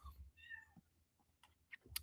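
A house cat meows close by in a short rising-falling call, followed by a few faint clicks and soft rustles in an otherwise quiet room.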